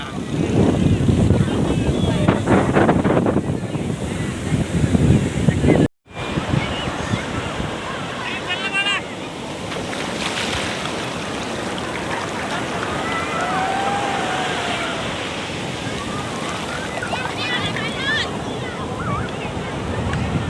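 Sea waves wash onto the shore at Madhupur beach, steady surf rolling under wind buffeting the microphone, with people talking over it early on before the surf continues alone.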